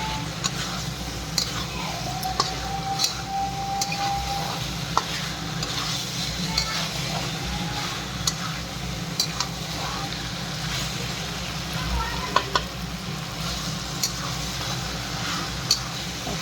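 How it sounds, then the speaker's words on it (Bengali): Fried potatoes stirred and sautéed with peas and spices in a pan for egg curry, a continuous sizzle with regular spatula scrapes and knocks throughout, a low rumble in the background, no talk. "ভাজা আলুগুলো দিয়ে ভালো করে কষে নিতে হবে"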